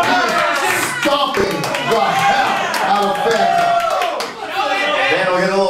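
A crowd at a wrestling match reacts with excited chatter and scattered clapping, a loud, busy mix of voices and hand claps filling the whole stretch with a brief dip near the end.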